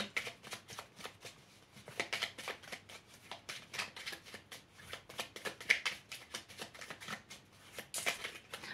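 Oracle cards of Native American wisdom being shuffled by hand for a reading, quiet repeated riffling and flicking in irregular bursts, close and soft.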